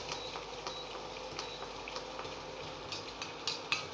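Water bubbling and simmering in a pan on the stove, used as a double boiler to melt ingredients for a cream base; a steady soft boiling hiss with scattered small pops and ticks, fairly quiet and close.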